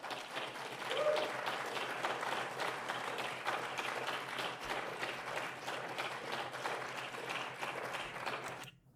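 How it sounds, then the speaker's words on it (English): Sustained audience applause right after a government announcement banning social media for children under 16, a dense, steady wash of many hands clapping for nearly nine seconds before cutting off abruptly. "Yo, they're overclapping there."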